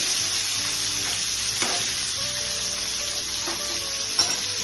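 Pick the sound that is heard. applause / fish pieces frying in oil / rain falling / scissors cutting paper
fish pieces frying in oil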